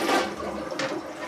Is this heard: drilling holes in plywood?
no